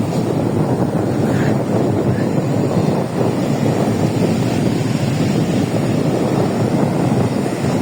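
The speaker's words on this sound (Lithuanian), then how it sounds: "Bangos didžiulės." Large waves breaking on a windy Latvian seashore, a loud continuous roar of surf mixed with heavy wind buffeting the microphone, with no voices.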